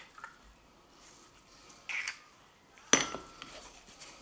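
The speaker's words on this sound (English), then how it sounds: "Give that a good mix" Parmesan and egg mixed in a bowl, faint scraping and a few light clinks of utensil against the bowl, with one sharper knock near the middle, close and quiet.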